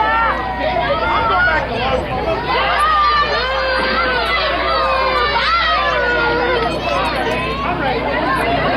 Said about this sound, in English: the crowd cheers for Ethan